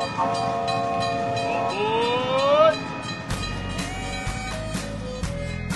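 A train rumbles along as a sound effect while a whistle sounds in rising, sliding tones, followed by rhythmic clattering of wheels on rails, loud and close throughout.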